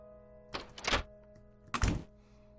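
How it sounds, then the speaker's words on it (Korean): A door opens somewhere in the video game Re;member, heard as two muffled thumps about a second apart over a steady, droning background music bed. "어딘가에 문이 열리는 소리가 났다"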